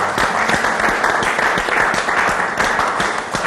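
A church congregation bursts into sustained, dense applause, many hands clapping at once and filling the room, with scattered voices faintly mixed in.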